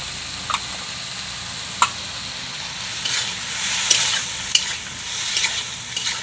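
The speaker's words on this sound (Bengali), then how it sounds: "বন্ধুরা এখন নুন আরও হলুদ দিয়ে ভালোভাবে কষে নেবো মশলা সাথে" Banana stem frying in a pan with turmeric and salt, a steady soft sizzle under sharp scraping strokes of a spoon as it is stirred, close and alone with no talking.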